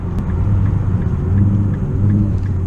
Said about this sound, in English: as I slow down for this turn, you'll watch it downshift pretty aggressively